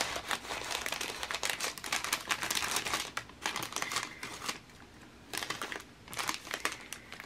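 Paper shred crinkles and rustles as it is stuffed into a small craft pouch, close and fairly loud in irregular bursts with brief pauses between handfuls.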